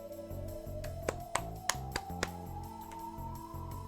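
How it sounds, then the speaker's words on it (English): Slow, dull clapping in the visual novel Umineko When They Cry: about six sparse, evenly spaced claps ring out over a soft musical background. "A truly dull applause."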